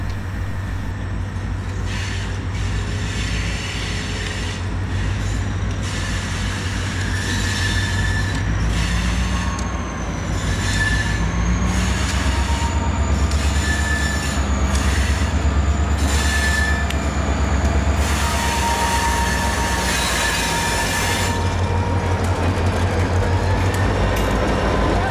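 A freight train of hopper cars with a cryogenic reefer on the tail rolls toward a road crossing, loud and close, with a continuous rumble of wheels on rail and intermittent high metallic flange squeals throughout.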